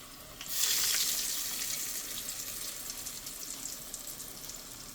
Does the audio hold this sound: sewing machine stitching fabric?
no